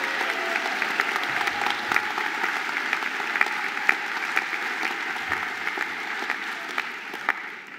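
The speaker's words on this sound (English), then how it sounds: "Family and friends, please, big round of applause to our graduates." Sustained applause from a graduation ceremony audience of family and friends for engineering, IT, environment, nursing and midwifery graduates, a steady dense roar of many hands clapping throughout at even loudness.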